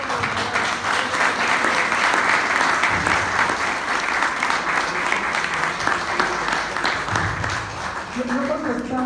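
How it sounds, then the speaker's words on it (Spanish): Sustained, loud audience applause at a book presentation on the history of Teocelo fills the room for several seconds. Voices rise faintly toward the end as the clapping fades. "quisiera pues brindarle un aplauso aquí al señor José Luis Chilo"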